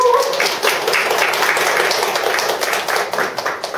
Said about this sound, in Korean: 감사의 마음으로 박수를